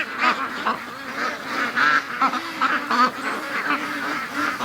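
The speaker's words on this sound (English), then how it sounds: "We got a little bit of a duck train happening right here." A line of free-range ducks heads to a lake in the morning, quacking in rapid, overlapping bursts. The calls are loud and near, and several birds call at once.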